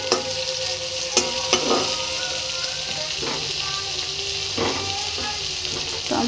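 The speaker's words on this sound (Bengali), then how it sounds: "এরপর আমি এখানে টমেটো কুচোগুলো অ্যাড করে দিচ্ছি" Chopped tomatoes frying in a pan for boot dal, a steady close sizzle broken by several sharp clinks and scrapes of stirring.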